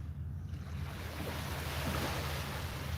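Steady ocean surf washing onto a beach, a continuous broad roar with low wind rumble and no distinct breaks between waves.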